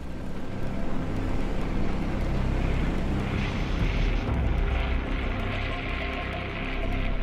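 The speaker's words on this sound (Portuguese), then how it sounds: "Armanini e o grupo Regensburg decolaram no céu pesadamente encoberto com rota para a Alemanha." A WWII bomber group takes off under a heavily overcast sky, and a loud, continuous engine drone builds slightly partway through and then holds steady.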